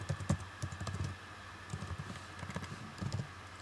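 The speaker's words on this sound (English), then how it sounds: "so I just type that in" Keystrokes on a computer keyboard while entering a bibliography file name into a LaTeX document, a few quick taps in short bursts, close and fairly quiet, with no talking.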